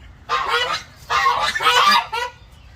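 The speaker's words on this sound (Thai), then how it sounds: "มาดูห่านห่านอาบน้ำที่สาหน้าบ้านนะครับ" Domestic geese bathing in a pond in front of a house give three loud, close bursts of harsh honking, separated by short quiet gaps.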